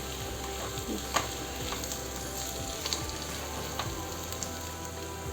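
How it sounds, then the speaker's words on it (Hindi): Potatoes sizzling and frying in a pan on a gas stove for vada pav, a steady soft crackle with a few light clinks of stirring, fairly quiet and with no talk over it. "ये आलू बहुत अच्छे फ्राई हो चुके हैं।"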